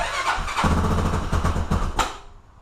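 A Honda 400EX ATV engine fires up on its first start with the choke on, catching with rapid sputtering bursts and a rising rev, then cutting out quickly. The sound is close and loud.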